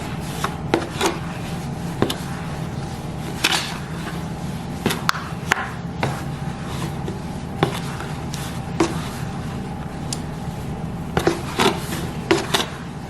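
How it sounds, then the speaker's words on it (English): Homemade laundry detergent powders being stirred and scraped together in a container, giving a series of irregular scraping and tapping strokes at close range, with no talk. "we're gonna mix that up so that all the powders are mixed up"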